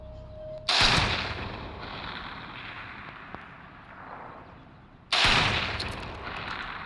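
Gunfire in a mobile shooter video game, two loud sudden blasts several seconds apart, each with a long decaying rumble, no voices.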